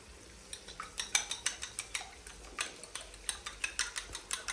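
Eggs with a pinch of salt whisked in a bowl, a quick regular series of light clinking taps from the utensil striking the bowl, about four to five per second, close and fairly quiet.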